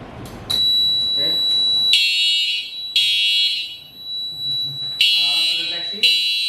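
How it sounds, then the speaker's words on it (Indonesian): An industrial fire alarm system sounds loudly during a deluge system demonstration, a steady high electronic tone broken into repeating pulses, with people talking over it. "Alarm terdeteksi."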